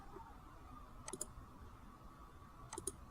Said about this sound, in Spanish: movemos el mouse hasta la esquina inferior derecha de la celda y hacemos doble clic